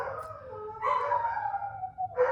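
Dogs at home howling in long, wavering, drawn-out cries that rise and sag, one howl flowing into the next and a new one starting near the end, fairly close and clear over a low background hum, with no speech.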